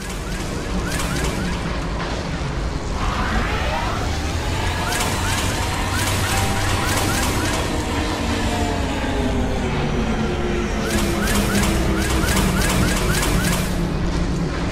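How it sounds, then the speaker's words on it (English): A fierce storm at sea batters a ship in Mass Effect 2, with a continuous roar of wind and crashing waves, heavy low rumble and surging gusts, and intermittent creaking tones throughout. "Navigating this storm is brutal."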